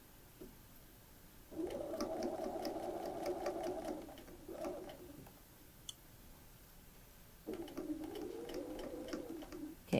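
A sewing machine edge stitching a waistband runs in two steady buzzing bursts split by a short pause, close and clear, with faint ticking and a distant bird behind.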